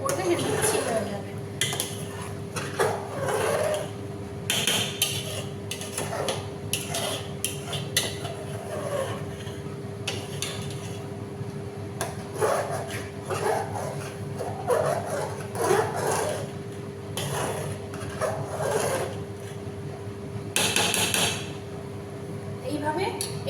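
A spoon scrapes and clinks against a pot while stirring khichuri mixed with fried spice paste, irregular metallic knocks under a voice talking through the stirring.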